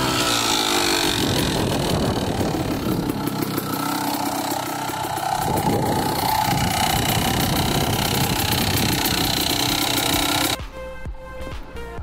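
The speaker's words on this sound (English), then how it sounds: "the bike's warming up right now" A Kawasaki KDX 200 dirt bike engine warms up, a loud steady two-stroke idle buzzing close by for about ten seconds before dropping abruptly to a quieter rumble.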